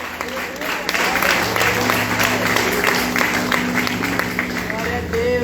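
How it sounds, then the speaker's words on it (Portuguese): A church congregation breaks into sustained applause, a dense, steady roar of clapping hands with a low sustained hum beneath and faint voices mixed in, holding loud throughout. "Você pode dar uma salva de palmas para o Senhor"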